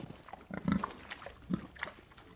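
Pigs in a pigsty in a film scene give faint, intermittent grunts and snorts, quiet and scattered over a low background.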